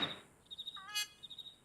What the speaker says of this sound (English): This delicious food must be attracting buzzing flies.